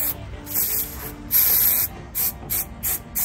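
Aerosol hair spray hisses from a can onto hair being styled green for Halloween, loud and close in several bursts, first one long spray, then a run of short quick squirts.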